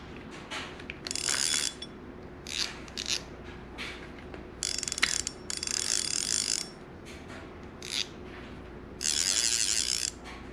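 A Penn Fierce II surf reel's drag clicks and ratchets in repeated bursts as it is loosened and turned, close and crisp, with mechanical clatter separated by short pauses and no talk.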